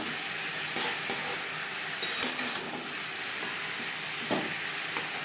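Papaya pieces frying with salt and turmeric in a pan, a steady close sizzle with a few sharp scraping stirs and utensil clinks against the pan.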